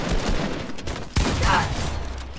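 Gunfire from a Fortnite Battle Royale match in Season 8: a burst of sharp, close shots cracks over a dense game soundscape, with a couple of stronger reports standing out in quick succession.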